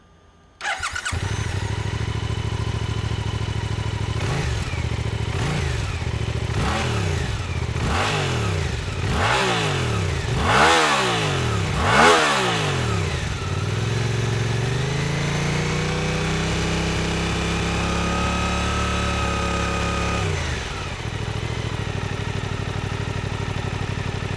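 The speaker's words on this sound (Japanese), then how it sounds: "はい、それではエンジンをかけてみましょう。" A Suzuki GSX-8R motorcycle engine starts up close, then is revved in a series of rising and falling bursts before settling into a steady idle.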